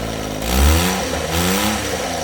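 A mini van engine cranks and catches after the ignition is switched on, a low rumbling rev that swells early and then settles into a steady mid-pitched running drone, close and fairly loud with no talk over it.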